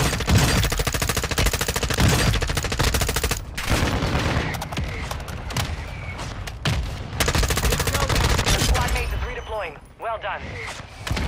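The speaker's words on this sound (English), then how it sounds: "Friendly mortar strike inbound." Warzone 2 gunfire crackles in rapid bursts with heavy booming impacts of a friendly mortar strike, loud and dense, with brief pauses and some in-game radio voices mixed in.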